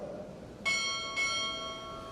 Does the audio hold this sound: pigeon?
no